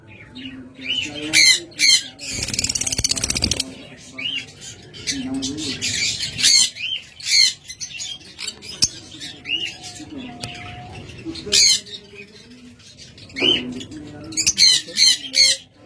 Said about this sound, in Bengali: লুটিনো ফিশার রেড আই জোড়া